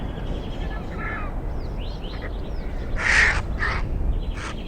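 Vultures with bare necks feeding on a carcass give harsh, rasping croaks, a couple of louder calls standing out near the end over a steady outdoor background hiss.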